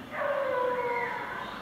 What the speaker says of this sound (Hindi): यहाँ के कुत्ते इतने भौंकते रहते ना